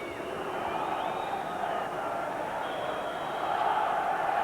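Football crowd at an Aberdeen v Dundee United Scottish Cup semi-final replay in 1994, a steady broad roar of many voices with faint distant chanting, holding even and loud throughout with a slight swell at the end.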